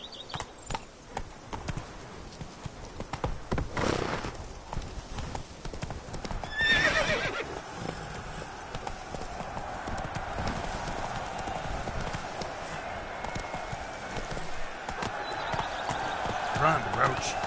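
The horse Roach gallops in Witcher 3: Blood and Wine, with rapid hooves, a whinny and a rider's urging voice over a steady wash of ambient game sound.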